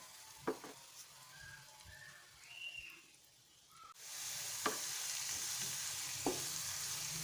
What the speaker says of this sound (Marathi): त्यानंतर यामध्ये टाकणार आहे अद्रक लसूणची पेस्ट हे सर्व व्यवस्थित परतून घ्यायचं आहे